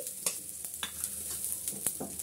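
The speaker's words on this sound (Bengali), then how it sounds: "একই প্যানে আমি সবগুলোই ভেজে নিচ্ছি।" Vegetables fry together in a single pan while a tomato-and-onion-leaf bharta is made: a faint low sizzle broken by sharp little clicks and scrapes of stirring.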